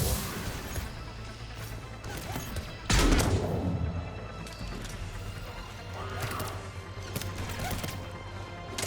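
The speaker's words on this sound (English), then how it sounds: "Where are you shooting me from?" Gunfire in Mass Effect 3, a burst of shots and a loud crash near the three-second mark over a steady game soundscape, with a voice talking intermittently.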